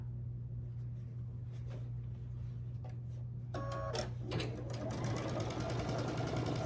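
A sewing machine stitches a quilt block at a quarter-inch seam, its fast, even mechanical whir running steadily up close over a low motor hum, briefly joined by a clattering burst midway.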